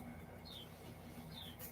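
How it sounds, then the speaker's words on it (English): A Carolina wren calls faintly twice outside, short descending chirps heard at a distance over a low background hum. "It's a Carolina wren."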